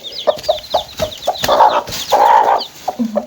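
Hens cluck and a rooster calls on a farm while newly hatched chicks peep in quick, high, repeated bursts, close and fairly loud throughout.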